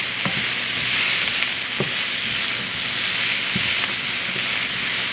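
Onion and garlic frying in olive oil, a steady close sizzle and crackle running throughout with a few soft stirring knocks and no talking.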